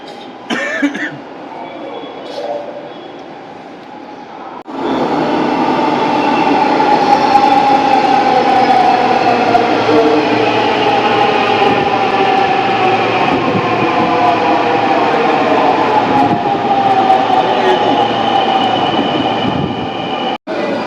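A Dhaka metro rail train at a station: after a few quieter seconds of platform ambience, a loud, steady rumble of the train running along the platform fills the rest of the clip.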